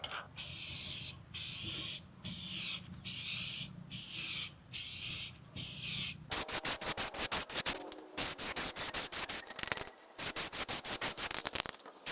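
Clear coat sprayed onto a Honda K24 engine valve cover, first in regular one-second bursts with short pauses, then as a denser run of rapid short spritzes; close and steady hiss with no talking.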